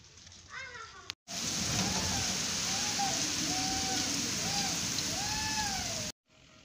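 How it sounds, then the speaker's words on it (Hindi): Light rain begins falling over a home courtyard, a soft, continuous hiss broken by short silent gaps at the start and end, with faint high chirping calls rising and falling above it. "हल्की हल्की बारिश शुरू हो गई है, आप देख सकते हैं।"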